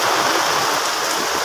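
Steady rain falls hard and close, a dense, even hiss that stays constant throughout, with no voices.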